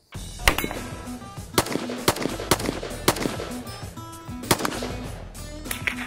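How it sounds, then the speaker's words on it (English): Machine guns and suppressed guns fire at an outdoor shooting event: sharp, loud shots ring out repeatedly at irregular intervals over a continuous background of distant gunfire and activity. "watch people from all over shoot machine guns, suppressed guns, and of course, lots of bullpups"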